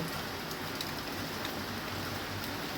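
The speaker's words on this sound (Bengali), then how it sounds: "প্রচুর বৃষ্টি হচ্ছে আজকে তিন দিন" Heavy, steady rain pouring down during flooding in Feni, Bangladesh, a dense continuous hiss of drops on surfaces with no pauses, heard alone without voices.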